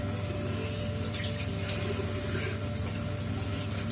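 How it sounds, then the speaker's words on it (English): Running tap water splashes steadily over hair-dye brushes being rinsed at a sink, a close, continuous gush with no talk. "I'm just going to rinse off my brushes"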